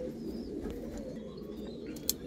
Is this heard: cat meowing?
no